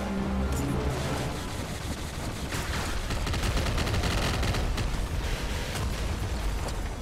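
Dense, continuous gunfire and bursting explosions from the top-down shooter Nuclear Throne, loud and sustained with rapid overlapping shots and no talking.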